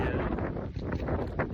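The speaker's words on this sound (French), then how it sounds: "j'espère que vous m'entendrez bien parce qu'il y a du vent." Wind gusting straight into an outdoor microphone, a loud, continuous low rumble and buffeting that fills the whole short stretch with no speech.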